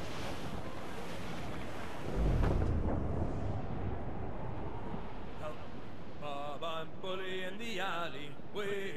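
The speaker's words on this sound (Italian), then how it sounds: "Una tempesta! Sembra forte!" A stormy sea at sail in Assassin's Creed IV: Black Flag gives a rushing wind-and-wave roar with a low deep rumble around two seconds, followed by shouting voices over the churning water.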